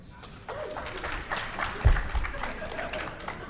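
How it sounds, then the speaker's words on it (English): An audience claps steadily for a few seconds at a Rise of the Tomb Raider panel at PAX West 2016, a dense patter of many hands filling the space with some voices mixed in. "Real quick, yeah, round of applause."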